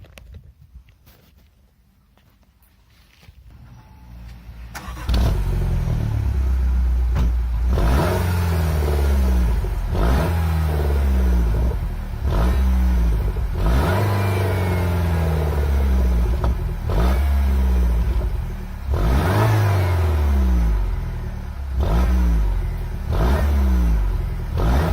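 A Peugeot 208 GTI with a TMSR2 intake fitted is revved repeatedly after a quiet start, each sharp blip rising and falling in a regular rhythm, loud and close with intake noise and no talking.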